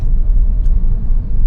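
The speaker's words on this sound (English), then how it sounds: "we have the 1-liter turbo petrol 3-cylinder petrol engine mated with the 6-speed manual gearbox on test here today" Kia Syros with a 1-litre three-cylinder turbo petrol engine and six-speed manual, cruising with a steady low road and engine rumble from inside the cabin, continuous and fairly loud, with no voices.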